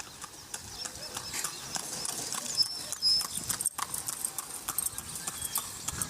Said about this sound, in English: Horses and carts are pressed into action.